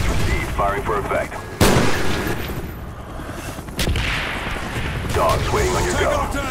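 Artillery strikes land in a video game as a few heavy, sudden booms with rumbling tails, interrupting background battle noise and radio-style voice lines.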